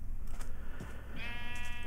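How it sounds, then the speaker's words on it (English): A Minecraft sheep lets out a single bleat near the end, over a soft, steady background hum and faint game sounds. "Were there more sheep over here?"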